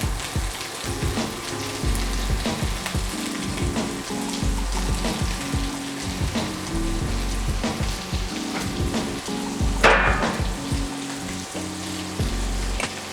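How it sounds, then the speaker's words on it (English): Broccoli frying in a pan with mushrooms during quick meal prep, giving a steady close crackling sizzle throughout with scattered pops and a brief louder hiss near the end. "So now I'm going to add my broccoli."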